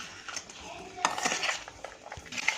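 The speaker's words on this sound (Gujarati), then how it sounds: "હવે આને આપણે સારી રીતે મિક્સ કરી દઈશું ચમચા વડે" A spoon stirs green turmeric pickle with added turmeric powder in a metal vessel, making close, busy scraping and clinking strokes that grow louder after the first second, with no speech.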